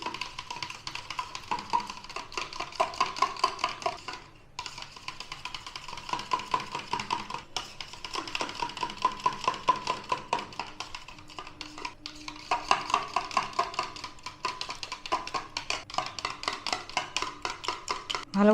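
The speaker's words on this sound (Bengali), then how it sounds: "100 টক দই নিয়েছি, ভালো করে আমি ফেটিয়ে নিচ্ছি" Sour yogurt being whisked in a bowl for papri chaat, a rapid steady run of light scraping taps against the bowl, near and continuous with only brief pauses.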